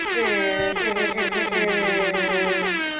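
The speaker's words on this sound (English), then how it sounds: "I'm going to hit the air horn." A loud, sustained air horn blast with bright stacked harmonics, blaring continuously for about three seconds and close to the listener.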